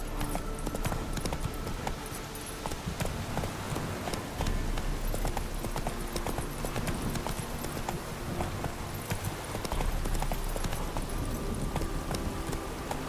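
Roach, the horse in The Witcher 3, gallops steadily with rapid, rhythmic hoofbeats that run unbroken and close throughout, over a dense game soundscape.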